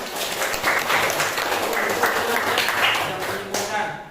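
A seventh-grade class applauds a classmate, a dense burst of clapping from many hands that is loud and sustained for a few seconds, with voices mixed in underneath.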